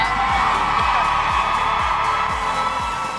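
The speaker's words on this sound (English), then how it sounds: "the crowd has been fantastic. You can hear them. They're all really loud." A loud crowd of fans at a live gaming event whoops and cheers in a dense, continuous roar, with rhythmic low thumps pulsing underneath throughout.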